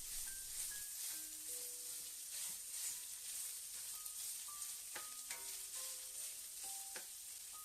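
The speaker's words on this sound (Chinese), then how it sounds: "锅中留少许油，先炒香咸鱼，翻炒出香味儿" Salted fish stir-fried in a wok with a little oil, a steady close sizzle broken by occasional spatula scrapes and clinks, moderately quiet with no talking.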